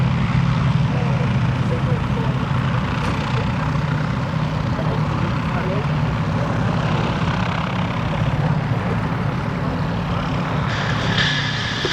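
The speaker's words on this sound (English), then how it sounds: "Now we're getting our aircraft for our next formation into the air with the Bristol Blenheim first off" A Bristol Blenheim takes off at an airshow, its engines a loud, steady drone throughout with a crowd's low murmur beneath, followed in the formation by two Westland Lysanders.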